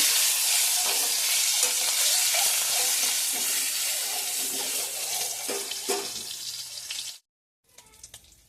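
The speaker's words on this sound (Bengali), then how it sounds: "এবার আমি ডিম আলুটা ভেজে নেব।" Boiled eggs and potatoes fry in hot oil, a loud continuous sizzle with scraping stirs, cutting off abruptly near the end before faint clinks resume.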